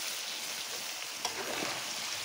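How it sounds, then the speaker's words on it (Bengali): Eggplant pieces dropped into vegetables frying in a pan on a clay stove, a soft sizzle with a brief stirring knock, quiet and close. "এখন বেগুনগুলি দিয়ে দিচ্ছি।"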